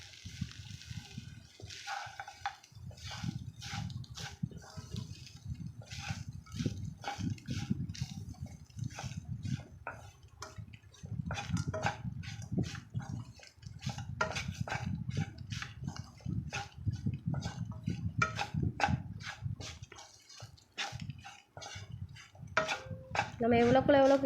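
A spatula repeatedly scrapes and taps against a pan while sura puttu, shredded shark meat, is stirred. The clicks come in quick irregular bursts over a low, steady cooking rumble, with brief pauses between rounds of stirring.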